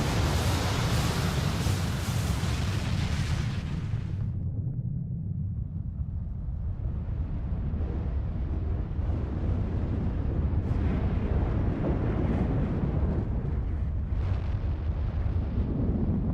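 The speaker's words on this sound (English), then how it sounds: "I love the Aether explosions in this game" A deep, rumbling Aether explosion from Final Fantasy XIV: Heavensward roars with a broad blast that collapses into a long low boom and rolling rumble, with lighter crackling bursts later.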